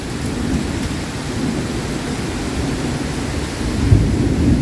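Heavy, steady rain from a storm in Istanbul roars continuously with a low rumble of thunder underneath, close and loud.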